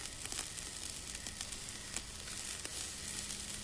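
A mushroom roasts on a stick over a campfire in the VR survival game Song in the Smoke, a steady, dense sizzle and crackle with occasional sharper pops, continuous and close, without talk.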